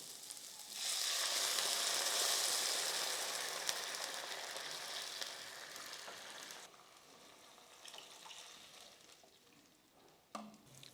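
Water boils hard in a pan over oil-sautéed ingredients for oats kichadi, giving a loud, steady bubbling sizzle. It eases off after several seconds, and a brief utensil clink sounds near the end.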